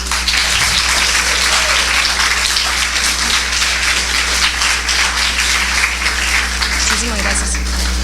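An audience at a Gobierno Abierto public government event breaks into loud, sustained applause, dense clapping that carries on steadily for several seconds.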